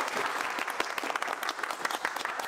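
An audience at a mobile repairing institute claps for a guest, a dense burst of many hands clapping together, close and sustained with no pause.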